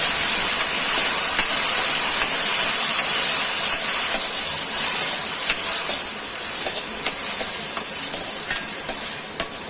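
Tomatoes hit hot oil in a pan for an Indian-style tomato pasta, setting off a loud, continuous close-up sizzle and hiss that eases slightly toward the end.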